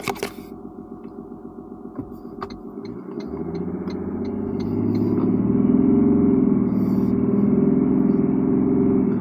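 Toyota LandCruiser 300 Series Sahara with its 3.3 litre engine while driving: a low cabin rumble that swells into a deeper, louder drone as the vehicle pulls away, with a few faint clicks early on.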